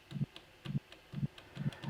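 A randomized modular synth sample from a library, programmed on a Digitakt for an atmospheric minimal track, gives five evenly spaced low thumping pulses with a faint rumble and ticking clicks between them, close and fairly quiet.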